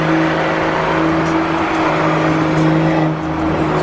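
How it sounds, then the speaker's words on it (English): BMW running a catless exhaust with a turbo, revving steadily up close with a deep, continuous engine drone and a faint turbo whir layered over it, no talk. "So Anthony's currently running catless right now. So you hear a lot more of the spooling, and it's a little bit deeper too."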